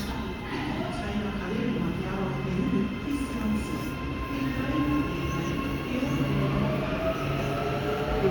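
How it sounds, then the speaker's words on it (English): An Auckland Western Line electric train idling and starting to move at Newmarket station, a steady close mechanical hum with rising whine and faint wheel squeal, with someone talking quietly over it. "a Western Line train is about to leave"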